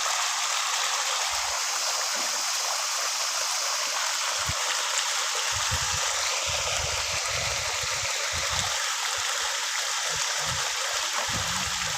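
Water gushes out of a tanker onto a paddy crop in a loud, continuous rush, with occasional low thumps and gurgles underneath.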